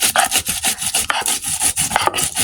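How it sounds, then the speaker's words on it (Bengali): Cumin, chili and ginger ground together into a paste, heard as steady, rhythmic rasping strokes of a rough rubbing scrape, close and fairly loud, with no voices. "জিরে মরিচ আর আদাগুলো বেটে নেবো"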